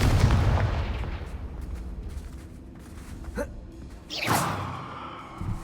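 A Confringo fire spell in Hogwarts Legacy goes off as a couple of sharp whooshing blasts with bursts of crackle, following a rumbling boom at the start, moderately loud.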